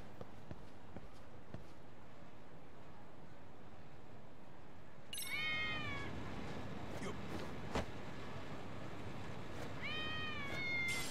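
An in-game stray cat in the video game Lost Judgment meows up close, with a couple of drawn-out meows starting midway and another near the end, over quiet footsteps and ambience.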